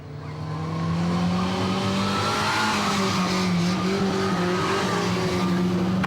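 Ministox stock cars circle on a rolling lap at a Warton Stock Car Club meeting, a steady, loud drone of several small engines blending together with tyre noise, continuous throughout without speech.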